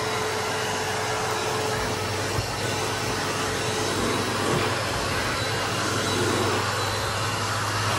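A Hoover vacuum cleaner works a carpeted staircase, giving a steady, loud motor whine and airflow hum that runs unbroken with only slight shifts as the nozzle moves.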